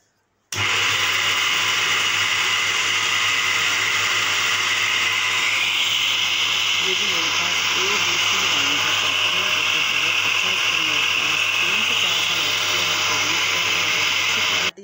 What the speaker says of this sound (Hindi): अब इसको हमने चॉपर में डाल लिया इसको हम चॉप करेंगे